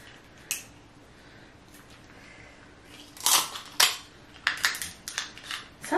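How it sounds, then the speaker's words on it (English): Sharp cracking snips as seafood scissors cut through king crab shell, several loud bursts clustered in the second half after a quiet start. "Those are actually seafood scissors."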